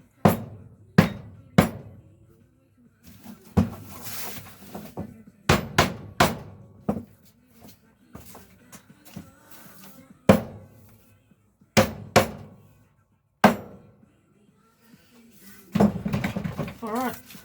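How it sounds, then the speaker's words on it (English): Hammer blows knocking fasteners into a garden cold frame's lid, sharp separate strikes in small clusters with pauses between, close and loud, some rustling and handling noise in between. "I'll just get the hammer and knock in any of those that can go through all the way"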